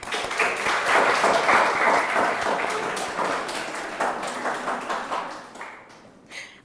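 Sustained applause from an audience at an Armenian school event in Anjar, with dense, steady clapping throughout that softens and thins toward the end.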